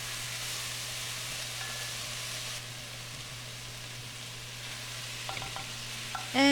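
Chicken frying in a pot for Turkish one-pot pasta makes a continuous loud sizzle with steady hiss. Near the end come a few brief clinks and scrapes, then a short louder knock.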